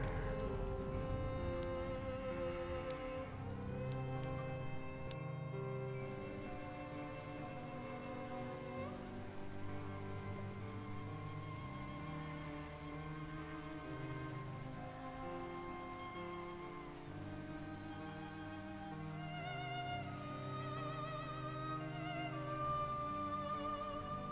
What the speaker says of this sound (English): Still Paris. Still in the rain.